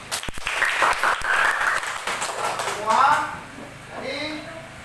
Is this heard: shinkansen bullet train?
no